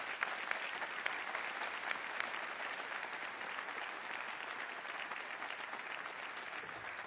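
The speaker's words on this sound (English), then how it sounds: "let's give John one more big round of applause." A conference audience at a Sprinklr digital transformation summit's opening general session gives a sustained round of applause, an even wash of many hands clapping at moderate distance with a few crisp claps early on and no voices.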